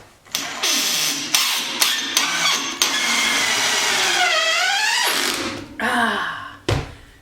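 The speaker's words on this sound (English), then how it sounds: "I'm just missing 1 screw right here on this corner piece of this railing" A power screwdriver drives a screw into the corner piece of a stair railing: several short motor bursts, then one long whirring run that rises and falls in pitch, a final burst and a dull thunk.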